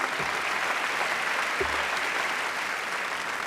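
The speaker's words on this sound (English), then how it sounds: "they deserve our thunderous applause" A large awards-show audience at the 1995 American Comedy Awards breaks into loud, sustained applause, a thick unbroken roar of clapping that holds steady throughout.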